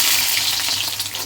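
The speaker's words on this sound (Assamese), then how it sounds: "নহৰুখিনি অলপ লাল হোৱালৈকে ধুনীয়াকৈ ভাজিব লাগিব" Garlic fries in a hot pan for mung dal, giving a loud, steady, close hiss and sizzle with the faint scrape of stirring.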